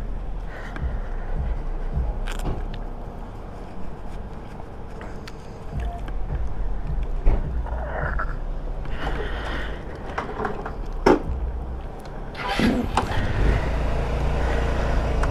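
An Icebear Hawkeye 150cc scooter with a high idle sets off, a steady low engine rumble running throughout with wind and road noise, rising slightly toward the end.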